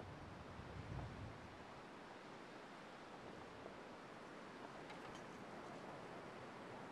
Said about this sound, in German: dadurch, dass jetzt der Wind hinzugekommen ist, höre ich ganz schlecht die Schritte.